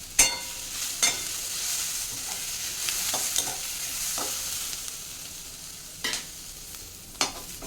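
Onions and tamarind frying in a pan for an ivy gourd onion curry give a steady, close sizzle, broken by several sharp scrapes and clatters of a spoon stirring against the pan.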